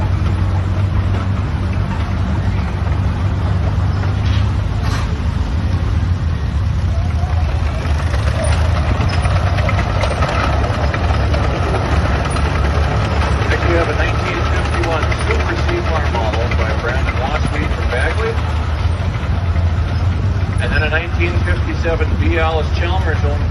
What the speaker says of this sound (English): Here's a 1943 Oliver 60 also owned by Jay Nelson from Cokato, being driven by Troy Nelson today.